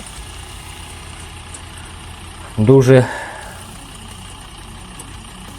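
A mini tractor engine, a DTZ 5244 HPX, idles steadily in the background with a low, even hum, while someone briefly says a word over it.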